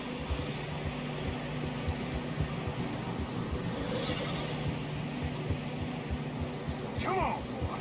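A horse whinnies near the end in Red Dead Redemption 2, a falling, wavering cry over a steady rumbling backdrop of wind and low ambient noise on a narrow snowy trail.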